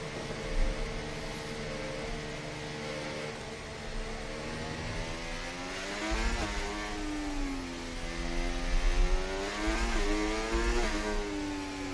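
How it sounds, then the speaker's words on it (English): Several Formula 1 cars in the F1 24 video game pull out of the pit lane in Sao Paulo, Brazil, a steady layered engine whine that rises and shifts in pitch as the cars accelerate, with no talk over it. "Oh, loads of cars going out."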